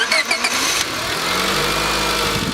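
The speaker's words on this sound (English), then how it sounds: "we gotta start the car." A car engine starts up close by before an air-conditioning recharge, a brief loud crank giving way to a steady, even idle.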